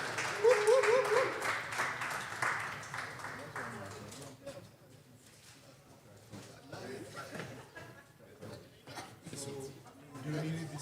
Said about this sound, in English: Round of applause, Hashmay.